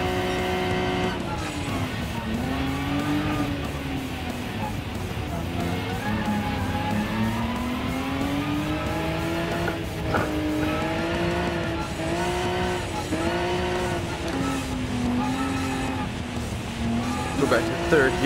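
A rally car in Gran Turismo Sport races in VR, its engine revving up and down through the gears with tire skids and squeals, loud and continuous while a player talks over it.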